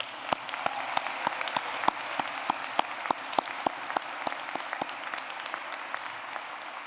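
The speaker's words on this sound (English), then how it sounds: "let's give a round of applause to the class of 2023 of this marvelous school" Audience at a Harvard Chan School of Public Health convocation applauds the graduating class of 2023, a steady wash of clapping with distinct individual claps standing out, sustained at moderate distance with no talking.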